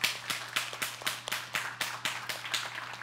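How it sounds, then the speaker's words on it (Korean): A church congregation applauds to welcome visiting elders, the clapping thin and steady, with distinct claps landing in a fairly even rhythm for about three seconds at moderate distance, no voices over it. "우리 뜨거운 축하와 감사의 박수로 함께 환영하겠습니다."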